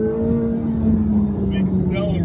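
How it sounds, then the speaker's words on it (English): A 2026 Chevrolet Corvette C8 ZR1 accelerates, its engine a loud steady drone heard from inside the car that climbs slightly in pitch, with a voice speaking over it. "The acceleration is definitely there. Holy moly."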